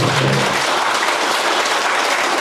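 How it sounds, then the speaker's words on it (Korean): A room full of citizens at a town-hall meeting in Ulsan breaks into sustained applause, loud and dense from start to finish. "우리 시당위원장님 박수 한번 부탁드리겠습니다"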